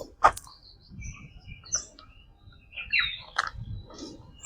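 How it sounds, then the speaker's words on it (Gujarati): Peacock calls in a wooded, hilly forest area of Gir, several brief sharp bird calls scattered over a few seconds against a quiet outdoor background. "મોરલો છે ભાઈ"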